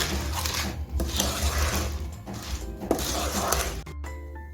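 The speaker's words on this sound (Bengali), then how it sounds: "এখন আমি ভালো করে মিশিয়ে নিচ্ছি" Flattened rice (chira) being mixed with milk in a bowl for moya, giving a steady wet stirring and scraping with occasional utensil clinks, close and continuous with no talk.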